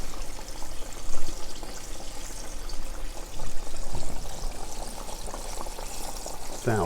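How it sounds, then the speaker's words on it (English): Chicken pieces for a crispy fried chicken sandwich fry in hot oil, giving off a continuous, dense sizzle and bubble that holds at an even level throughout. "we're just going to let these fry"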